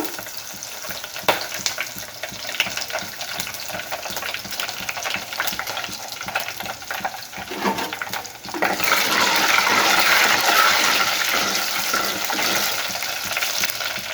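Small onions frying in oil in a pan, a steady close sizzle with stirring scrapes that grows louder and brighter midway as they hit the hot oil, no voices.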